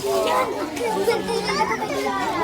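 Several children chatter and call out noisily together indoors, a dense, lively overlap of young voices close by.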